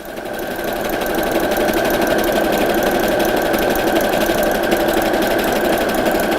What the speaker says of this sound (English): we're going to zigzag stitch around the edge of each one of the pennants